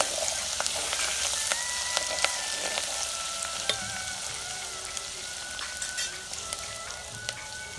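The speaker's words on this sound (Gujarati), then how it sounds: "એક સ્પૂન આદુની પેસ્ટ એક સ્પૂન લસણની પેસ્ટ પાંચથી છ નંગ લીમડાના પાન બરાબર મિક્સ કરી લઈએ" Ginger-garlic paste and curry leaves stir-frying in a hot pan, a steady crackling sizzle with scattered sharp pops and occasional scrapes of stirring throughout, close and alone with no voices.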